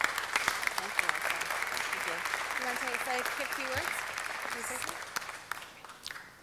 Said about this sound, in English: let's give a great big round of applause for Issa Lemus